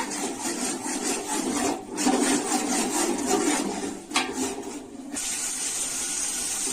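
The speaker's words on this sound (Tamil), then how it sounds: "நூறு கிராம் இஞ்சி அதையும் சேர்த்து நல்லா வதக்கி விடுங்க" One hundred grams of ginger sizzles in hot oil for chicken biryani, a steady crackling hiss broken by scraping stirs of a spoon against the pan, close and continuous with a few brief pauses.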